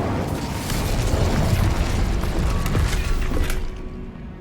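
Incendio spell blasting through a barrier in Hogwarts Legacy: a sustained, dense rumbling roar with crackling and mechanical grinding runs for about four seconds, then trails off abruptly.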